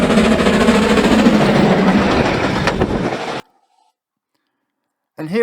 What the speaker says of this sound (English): Let's let this light engine steam up the bank.